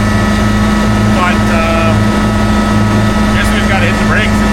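Loud power steering pump whining steadily on a vehicle, a sustained droning tone under an engine rumble, with someone talking over it.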